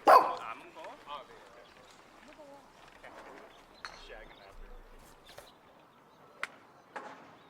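A dog gives a sharp bark up close, followed by quieter whines and yips while a person talks over it.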